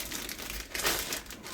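A gallon Ziploc plastic bag crinkles and rustles in a kitchen, a close, brief burst of crackling handling that ends within a couple of seconds.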